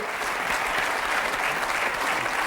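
A TV game show studio audience gives loud, sustained applause, a dense, even wash of many hands clapping at once that continues without a break.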